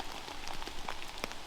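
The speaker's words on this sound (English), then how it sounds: "I decide to come out when it's absolutely throwing it down with rain." Heavy rain drums steadily on a camping tarp in the wild, a dense close patter with scattered sharper drop hits and no voices.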